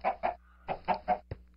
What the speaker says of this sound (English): I can hear the chickens just fine.